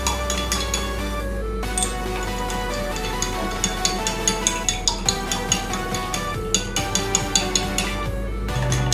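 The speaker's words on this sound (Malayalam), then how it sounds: "ഇനി ഇത് നമുക്ക് നന്നായിട്ട് ഇളക്കി യോജിപ്പിക്കാം" A spoon clinks repeatedly against a glass while stirring sugar into water, with steady rhythmic taps growing more regular toward the end, close and clear, over a faint background hum.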